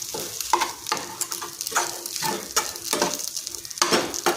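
Turmeric and coriander-cumin powder stirred into rice in a pan for vagharela bhat, a spoon scraping in steady, repeated strokes over a soft frying sizzle, close and unbroken, with no voices.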